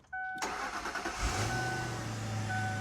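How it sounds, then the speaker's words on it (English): A silver 2004 Ford Thunderbird starts with a short cranking burst, then settles into a steady idle, heard close with no talking and a faint tone running underneath. "We're going to start the engine for you now."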